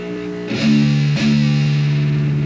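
Two distorted electric guitar chugs land about half a second apart, thick and loud, each followed by a sustained buzzing ring.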